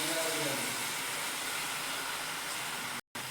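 Soaked moth dal (matki) tipped into hot masala oil, giving a steady broadband sizzle and hiss that runs continuously and fairly loud, with a brief cutout near the end.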